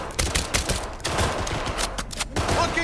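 Rapid automatic gunfire at a shooting range in Cyberpunk 2077 on PC, loud continuous bursts with brief gaps, rattling on through the whole stretch.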